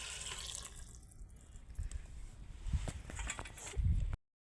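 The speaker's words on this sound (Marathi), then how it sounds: "पाणी टाकून पाणी टाकणार आहे" Water is poured into a cooking pot for a traditional Marathi vegetable dish with brinjal, a splashing, running stream with a few knocks that stops abruptly after about four seconds.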